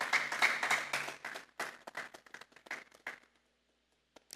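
A church congregation claps as an offering during a Sunday service: a brief spell of scattered, moderately loud claps that thins out into quiet, with voices mixed in at the start.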